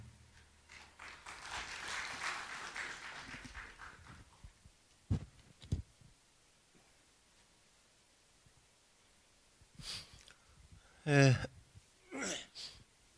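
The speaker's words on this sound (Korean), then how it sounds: "대한사랑 박석재 이사장님을 큰 박수로 맞이해 주시기 바랍니다." An audience at a Korean history lecture claps in a sustained, moderately loud burst of applause to welcome a speaker, fading into quiet with a few scattered knocks and handling noises afterward.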